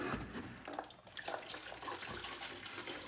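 Rainwater pours from a gallon pitcher onto a potted indoor orchid, making a steady, close splashing trickle that runs for the whole few seconds with no talking.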